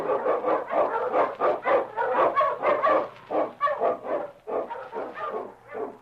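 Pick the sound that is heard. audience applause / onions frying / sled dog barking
sled dog barking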